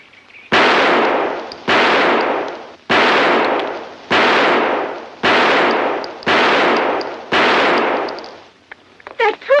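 A gun fired seven times in a steady, evenly spaced series, each shot loud and close with a short decaying ring, followed by faint clinks at the end.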